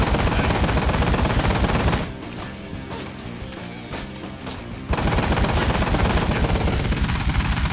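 Rapid gunfire from the video game Ride to Hell: Retribution, loud and sustained, dropping to a quieter patch of shots in the middle before bursting back at full intensity.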